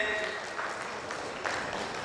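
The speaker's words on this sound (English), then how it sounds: "Can we have Suraj with a big round of applause?" An audience at a customer experience panel claps to welcome a panelist to the stage, a short burst of fairly faint applause with a voice speaking over it.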